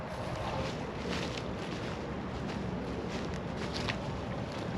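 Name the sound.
wind blowing over a lake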